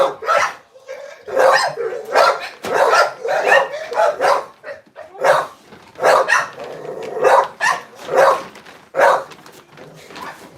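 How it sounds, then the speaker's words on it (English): Several dogs bark repeatedly and loudly at a door, eager to be fed, in overlapping bursts with short gaps, close and insistent throughout. "you heard the other dogs trying to break in the door"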